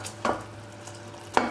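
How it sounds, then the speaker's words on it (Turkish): Caramel being stirred in a pot on the stove, two quick scraping sweeps of a utensil against the pot over a low steady simmer, close and no voices. "Şimdi 2 dakika karıştırarak kaynatıp ocaktan alacağım."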